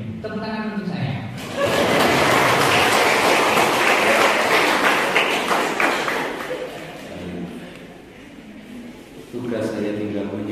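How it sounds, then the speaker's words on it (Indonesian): Loud applause from a church congregation at the dedication of a chapel, a thick burst of many clapping hands that swells, holds for several seconds and fades, with someone speaking just before and after. "Tepuk tangan untuk saya."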